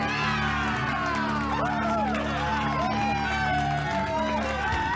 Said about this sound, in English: A huge round of applause for those guys and girls that volunteered to make sure we all had a good time